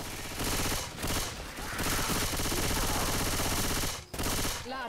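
Sustained automatic gunfire from Left 4 Dead 2 rattles loud and nearly continuous, with rapid bursts and brief gaps between volleys.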